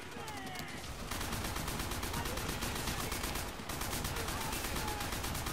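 Continuous dense gunfire from the World War II shooter World at War, a loud, unbroken rattle of automatic weapons that dips briefly near the start and midway before resuming.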